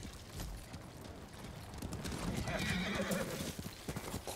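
A horse in the samurai video game Ghost of Tsushima gallops with steady clip-clop hoofbeats and lets out a whinny partway through, with game ambience and a faint voice underneath.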